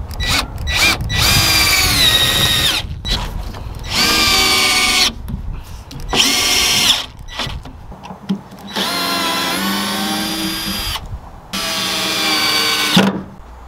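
A power drill drives screws through plywood side panels into a wooden grind box frame, running in repeated loud bursts of whirring with short pauses between each screw.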